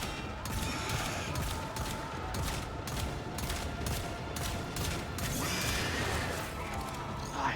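Rapid repeated gunfire from the video game Warframe fills the clip, a dense rhythmic string of sharp shots layered with mechanical clatter and game effects.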